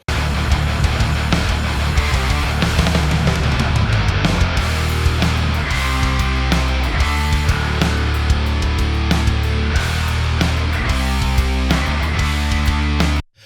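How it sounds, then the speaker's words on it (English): A dense, loud old school hardcore band mix with heavy distorted guitars, pounding drums and driving bass, played without vocals throughout. "I pulled out the rough instrumental mix of a old school hardcore band"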